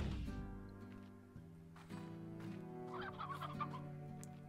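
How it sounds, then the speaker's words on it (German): Chickens in the video game Slime Rancher cluck and squawk in short bursts, several calls in a row, close and clear with no talk over them. "Ah, wieder neu gewachsene Hühner."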